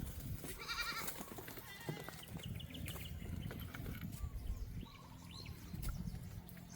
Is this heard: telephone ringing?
no